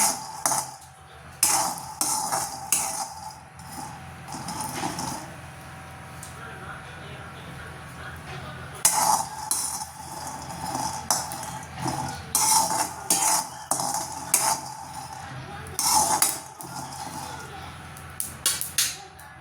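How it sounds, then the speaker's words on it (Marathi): Peanuts dry-roasting in a pan, stirred by hand, giving repeated scraping and clinking of utensil against metal in uneven bursts, with a voice present at times. "सर्वात अगोदर आपण असे शेंगदाणे असे खमंग भाजून घेणार आहोत"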